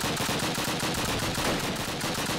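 Sustained loud automatic gunfire from hip firing in a Call of Duty game, a dense unbroken rattle of rapid shots close up throughout.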